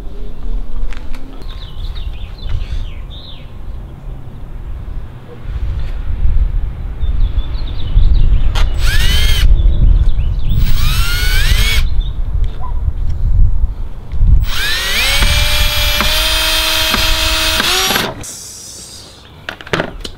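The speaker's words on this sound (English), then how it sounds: "now I can go ahead and screw that in" A power drill drives screws into a wooden board held by clamps, building a homemade fish bump board; several loud whirring bursts rise and strain, with a longer sustained run near the end, amid clattery workshop noise.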